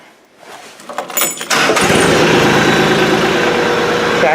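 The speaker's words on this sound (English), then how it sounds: "So now we'll start up the tractor." An LS XJ2025 compact tractor's engine cranks with a few uneven turns, catches, and settles into a loud, steady diesel idle close by, with no talk over it.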